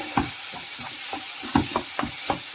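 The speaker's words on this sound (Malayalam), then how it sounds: "ഇതൊന്ന് നന്നായി ഇളക്കുക" Tuna egg masala is stirred in a pan over a steady sizzle, the spoon scraping in quick repeated strokes, about seven close scrapes in under three seconds.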